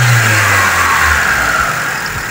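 A Mitsubishi Lancer with a 4G13 engine and 2E carburetor revs steadily and loudly up close, holding a constant drone for about two seconds before easing slightly toward idle.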